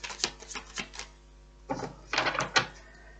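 Tarot cards being shuffled by hand, a series of quick papery flicks and riffles in short bursts, close and fairly soft, with a pause between the groups.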